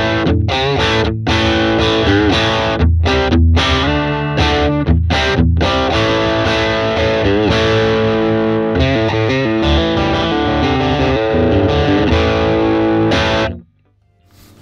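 An electric guitar played through an Ibanez Mini booster pedal on a fairly clean tone, sustained chords with light added grit, loud and continuous before cutting off at the end.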